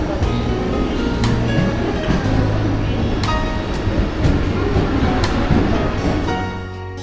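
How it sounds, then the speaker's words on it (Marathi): Early-morning Khopoli-bound local train out of Dombivli rumbles steadily and loudly, heard from on board, with faint periodic clicks and rattles on the track before the sound eases off at the end. "डोंबिवलीवरून 5:36ची खोपोली ट्रेन पकडून आम्ही निघालो नेरळच्या दिशेने"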